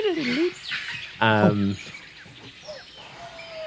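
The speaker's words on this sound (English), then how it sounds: "I'm totally putting bird noises in right now." Owl-like hooting and bird calls played as a sound effect during a tabletop fairytale story session, short tonal hoots and chirps heard between and under people talking nearby.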